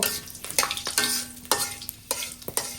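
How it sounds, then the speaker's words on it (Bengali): Whole cardamom pods and cinnamon sizzle softly in hot oil in a pan while a spoon scrapes through them in several sharp, quick, close strokes, with no one speaking. "দুটো এলাচ দিয়ে আর দারচিনি দিয়ে তেলের উপরে দিয়ে দিচ্ছি আস্তটা এটা ভালো করে নেড়ে নেব"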